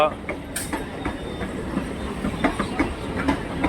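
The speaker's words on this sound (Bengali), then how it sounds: "1 নম্বর প্ল্যাটফর্মে ট্রেন দিয়েছে শিয়ালদা কৃষ্ণনগর।" Sealdah–Krishnanagar local train standing at platform 1 of an Indian railway station, with a steady rumble, hiss and faint clicks under station bustle and nearby voices.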